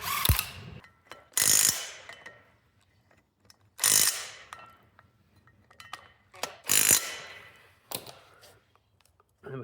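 Ratchet spinning down wheel bolts while a new front brake disc goes onto a Jaguar XJS V12. Several loud bursts of fast clicking come at intervals, with quiet pauses between them.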